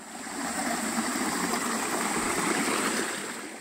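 Valley stream water channelled alongside a forest walking trail, flowing in a steady, even rush close by with no voices over it.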